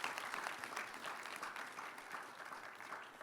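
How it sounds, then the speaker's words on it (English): Audience applause at a Ghanaian national event celebrating women, with steady, dense clapping that holds throughout at moderate distance, with no voices over it. "give this nation a resounding round of applause for its women"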